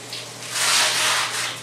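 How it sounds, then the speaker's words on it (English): A finish applicator being rinsed under a running tap, a steady broad wash of water that swells in the middle and eases off, close and alone without talk. "I can take it and I can wash the whole applicator"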